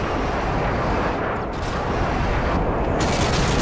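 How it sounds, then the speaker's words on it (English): Airstrike explosions rumble through a Call of Duty MW3 Domination match, a dense, continuous roar of booming blasts and gunfire-like crackle that stays loud throughout with no voices. "Friendly airstrike on the way."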